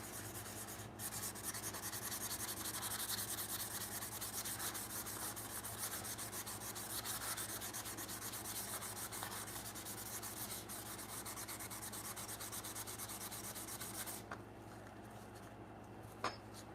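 An antique hand plane blade is sharpened by hand in steady, continuous back-and-forth rubbing strokes on a stone, close and even, running without pause for most of the clip before easing off near the end.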